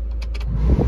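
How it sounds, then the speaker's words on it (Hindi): Maruti Eeco 2022 CNG car engine starting, a few brief clicks and whirs followed by a low engine rumble that catches and settles, close and fairly loud. "हमने कर दिया इंजन को स्टार्ट"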